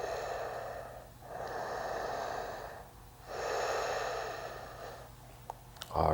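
Slow, audible breaths drawn in and let out during a tai chi warm-up, soft and close, in three long cycles with quiet pauses between them.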